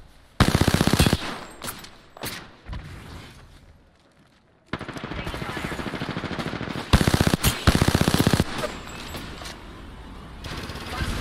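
Heavy single shots from a Wingman revolver in Apex Legends, loud sharp cracks in short clusters separated by quieter stretches, with some softer mechanical noise between them.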